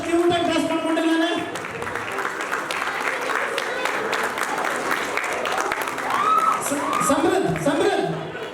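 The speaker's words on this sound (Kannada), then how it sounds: "ಚಪ್ಪಾಳೆ ಸಮೃದ್ಧಿಗೆ." Sustained applause from an audience at a prize distribution as a young boy comes up, with scattered chuckles and voices talking over the clapping throughout.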